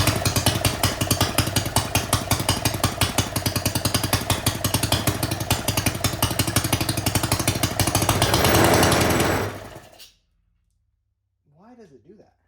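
A small homemade gas engine with a titanium connecting rod runs loud and harsh without its exhaust, rapid rattling firing pulses, then cuts off abruptly into silence, followed by a brief voice.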